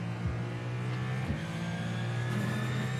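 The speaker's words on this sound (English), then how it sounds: "Why is this car sound like this?" A Ferrari GTP prototype race car engine drones loudly and steadily in iRacing at Watkins Glen, with small shifts in pitch and no talking over it.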